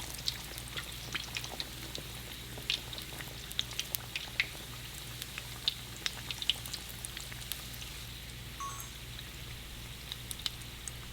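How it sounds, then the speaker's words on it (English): Cheesy flaky empanadas fry in hot oil, giving a steady soft crackle with scattered sharp pops and spits, fairly faint and without talk. "I'm not going to add too many at the same time because then it'll drop the temperature of the oil"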